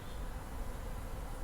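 Honey bees in an open hive with full frames drone in a dense, steady buzz, close and continuous for a brief moment, with no voices.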